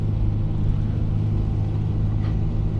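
Engine of a manual Toyota 4Runner in second gear at about 3,000 RPM and 31 mph on a snowy mountain pass, heard as a steady, loud low drone with road rumble from inside the cabin, without a break.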